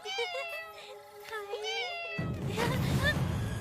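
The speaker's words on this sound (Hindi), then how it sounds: "दूसरी बिल्ली।" A cat gives a drawn-out, wavering meow up close, then a louder, noisy background takes over and the meowing fades beneath it.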